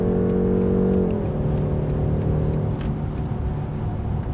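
A BMW 530i xDrive exhaust note while driving: the engine drone holds steady, then drops in pitch as revs ease, leaving a continuous low cabin rumble, loud and close with no talking.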